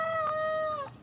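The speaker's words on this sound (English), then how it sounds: "We got geese over here." Geese honking nearby on a vegetable garden homestead, one long drawn-out honk followed by a shorter call that fades at the end.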